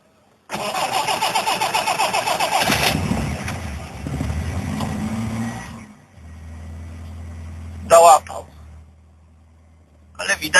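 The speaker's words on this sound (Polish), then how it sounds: "O ile w ogóle odpali, bo on też lubi czasami nie odpalić." A Fiat 125p fitted with electronic ignition cranks and catches, revving unevenly before dropping to a steady low idle, followed by a short sharp clatter and another burst near the end.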